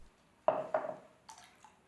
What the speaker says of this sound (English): It's perhaps almost laminar flow, and of course it sputters a bit as the liquid runs out.